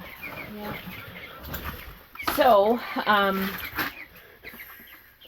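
Young chickens and a turkey, about 17 days old, chirp and peep in a brooder, with a burst of sharp, rising calls in the middle and people talking nearby.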